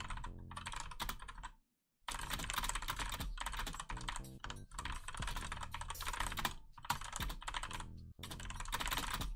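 Continuous fast typing on a computer keyboard during a typing quiz, dense clattering keystrokes close up and loud, with one brief pause before the rapid tapping resumes.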